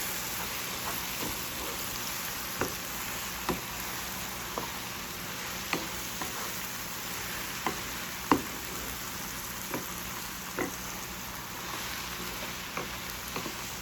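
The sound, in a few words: stirring pepper into frying mushrooms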